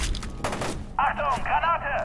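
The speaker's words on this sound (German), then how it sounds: "Schrotgewehr, ja, das könnte ich jetzt mal benutzen." Shotgun blasts in the F.E.A.R. 2: Project Origin shooter, a few sharp close reports in the first half, then game sounds and a voice take over.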